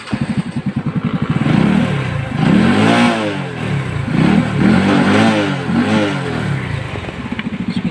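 A Euro Sports R125 motorcycle engine revs up close and loud, rising and falling through several throttle blips over a steady idle clatter.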